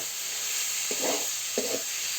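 Banana flower fries in a pan for a mashed vorta, giving a steady soft sizzle broken by two short scraping strokes of stirring.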